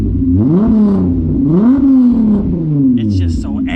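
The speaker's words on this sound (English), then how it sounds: "that VR6 tone, like this car, I love this exhaust setup" A VR-engine Volkswagen Golf 3 with a VR5 swap revs hard through its exhaust, the loud, close engine note climbing and falling in repeated sweeps, with a few brief higher clicks near the end.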